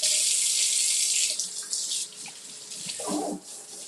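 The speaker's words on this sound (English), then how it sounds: "So I'm gonna wash my hands." Water runs steadily from a kitchen tap as hands are washed beneath it, a broad hissing stream that shifts slightly as the flow is interrupted, close and continuous with no talk.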